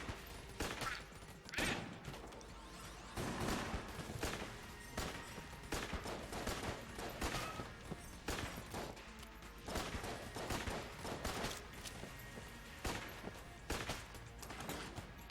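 Rapid bursts of cannon gunfire fire in Enter the Gungeon, dense overlapping shots and impacts crackling throughout in a busy, continuous barrage.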